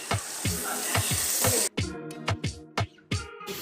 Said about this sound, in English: You start sauteing your APs first.